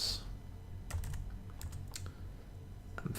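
Slow, scattered keystrokes on a computer keyboard, close and fairly quiet, a few taps at irregular intervals over a low background hum.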